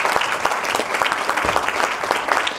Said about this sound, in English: Let's give all our scholars a big round of applause again.